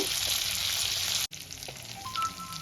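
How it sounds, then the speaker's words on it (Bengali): Rohu fish head frying in hot oil, a loud continuous close sizzle that cuts out abruptly for an instant and returns somewhat softer, with faint tonal clinks near the end. "মাছের মাথাটা আমি এবার লাল লাল করে ভেজে তুলে নেব"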